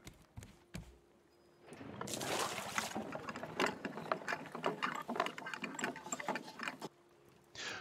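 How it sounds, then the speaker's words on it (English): Anchor dropping in the survival game Raft: a long rattling ratchet-and-chain clatter of rapid mechanical clicks, building after a short pause and running several seconds before cutting off, with faint water ambience behind. "Drop the anchor."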